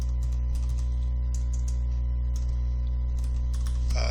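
Someone types ID numbers on a computer keyboard, with irregular light key clicks in short clusters over a constant low electrical hum, ending in a slightly louder tap.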